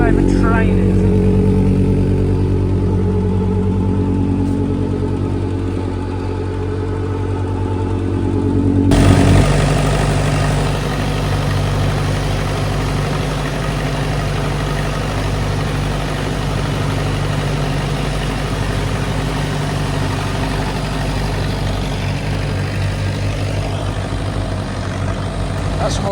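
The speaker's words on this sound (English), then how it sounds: "Big tanker, no revs at all." A big farm tanker rumbles past at low engine revs, its steady low drone holding throughout with a brief rise in the middle, while a person talks over it.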